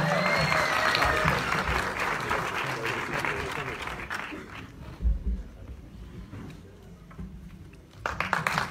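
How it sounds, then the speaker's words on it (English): Audience at a fan event with a film star in Oman breaking into loud, dense applause that gradually thins, then swells again near the end, with voices mixed in. "Give a round of applause, guys."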